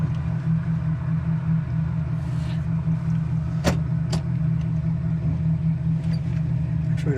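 A 1967 Chevy Camaro engine idles with a steady low rumble throughout, a continuous droning tone joined by a couple of brief higher clicks or knocks partway through.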